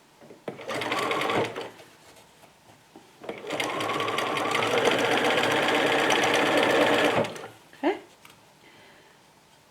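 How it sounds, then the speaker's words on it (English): Domestic sewing machine stitching elastic onto fabric for pajama pants, running in two loud bursts, a short one then a longer steady run, with a brief quiet word between stitches. "Now I need to get a hold of my elastic and take a few stitches."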